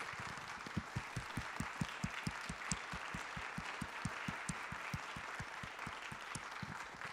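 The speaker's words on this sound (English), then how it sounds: "give them all a round of applause for their hard work" Applause at a Lutheran church annual meeting for volunteers, a steady crowd of hands clapping at medium distance with a brisk, even rhythm and no voices over it.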